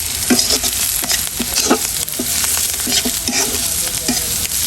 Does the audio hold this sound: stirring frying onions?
yes